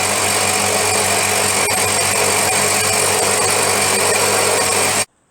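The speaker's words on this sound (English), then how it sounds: "what I'm doing now is just milling down the stub" Milling machine cutting down the inlet stub on a cut-down BSA Bantam motorcycle barrel, a loud steady grinding whine with constant mechanical hum that stops abruptly at the end.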